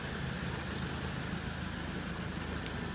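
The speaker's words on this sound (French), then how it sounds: "il pleut énormément" Dense, steady rain hisses and patters across a surface without a break, a continuous broadband wash with no voices.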